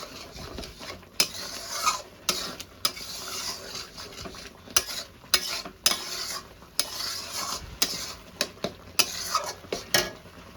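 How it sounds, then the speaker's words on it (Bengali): Spinach (palak) rice being sautéed in a pan, with repeated sharp scrapes and clinks of a spatula against the metal over a soft background sizzle, arriving in an irregular stirring rhythm. "খুব ভালো করে কষাতেই থাকবো"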